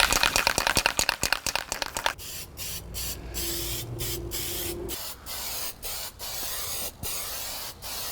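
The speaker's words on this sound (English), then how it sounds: "You have to spray both sides." Adhesive hisses from a spray can in rapid short bursts, then in longer sustained sprays with brief pauses between them. The sound is loud and close, with the work done on a 2005 Honda Odyssey interior.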